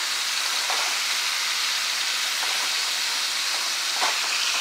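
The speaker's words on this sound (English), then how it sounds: "I'm gonna go ahead on and drop this broccoli." Steady, loud hiss of steam as broccoli goes into a pot of boiling water, a constant rushing sizzle with a few faint clicks and no talking.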